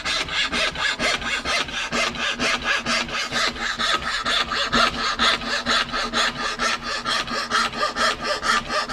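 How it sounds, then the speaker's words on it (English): Steady rhythmic hand sawing through wood, each rasping stroke clear and close, repeating in a quick even back-and-forth pattern. "How's the sawing going?"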